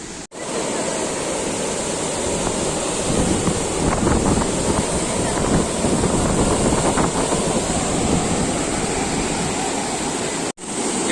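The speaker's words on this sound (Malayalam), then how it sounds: "ഈ സ്പിൽവേ കൂടെ വെള്ളം വീഴുമ്പോൾ ഇങ്ങനെ തന്നെ" Water plunges over the spillway of Chimmony dam in Thrissur, a loud, continuous broadband roar heard up close, with gusts of wind buffeting the microphone.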